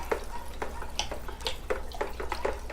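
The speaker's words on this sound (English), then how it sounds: "I'm gonna give it another stir." Compost tea with worm castings being stirred in water: soft repeated sloshing and swishing strokes at an uneven rhythm, close and moderately quiet.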